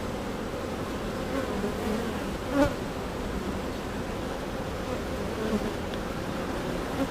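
Honeybees buzz steadily throughout a beehive inspection, a dense, continuous hum of many insects close by, with one brief louder swell as a bee passes near.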